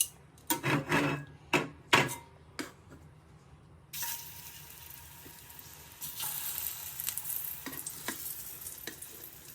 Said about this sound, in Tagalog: Prito naman tayo.